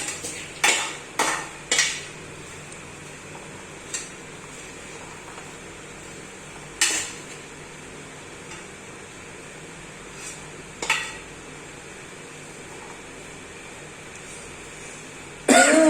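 Groundnuts roasting with salt in a hot pan at home, giving sparse, sharp clatters and rattles of nuts and spoon against the pan, with a few bursts clustered at the start, close up over a quiet, steady background.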